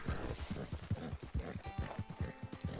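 Hooves from a horse in the video game Red Dead Redemption 2 clip-clop in a quick, even rhythm, moderately close and on their own, with no talk over them.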